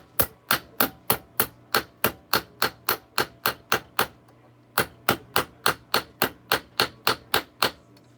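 A small ball peen hammer strikes a metal spoon in steady, evenly spaced sharp metallic taps, about three per second, with one short pause, each strike ringing briefly against a quiet background.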